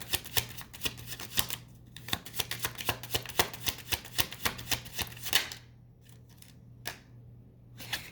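Tarot cards riffled and shuffled by hand in quick, dense bursts of crisp flicks and slaps, close and fairly loud over a steady low hum, easing into a few sparse taps and a short pause near the end.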